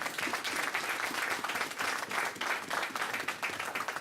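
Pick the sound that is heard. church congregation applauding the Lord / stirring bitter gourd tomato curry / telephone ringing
church congregation applauding the Lord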